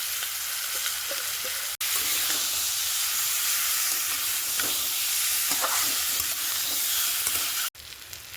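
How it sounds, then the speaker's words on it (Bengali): Steady, loud sizzling of marinated chicken frying in hot oil, a dense crackling hiss with occasional pops and stirring, continuous throughout with no voices. "তেল তো গরম হয়ে গেছে, ম্যারিনেট করা চিকেনটা আমি এর মধ্যে দিয়ে দেবো।"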